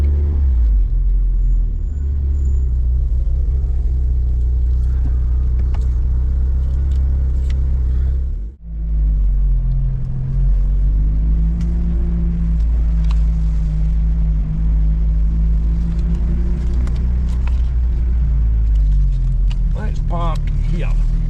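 A Vauxhall Cavalier with a C20XE engine running on four cylinders, a steady low engine drone from inside the car with a brief dip midway, then rising revs under faint talk.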